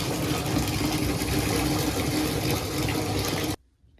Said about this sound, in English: So I ran him a very, very shallow amount of water.